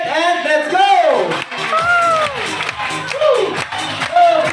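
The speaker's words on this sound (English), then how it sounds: "all you have to do is to cheer your team" A crowd of spectators at a bird show cheers and whoops for competing teams, with loud overlapping shouts and voices rising and falling close by.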